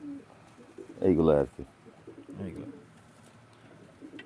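Pakistani Teddy pigeons coo in a loft of young pairs, a loud burst of cooing rising near the middle and softer calls after, with someone speaking briefly alongside.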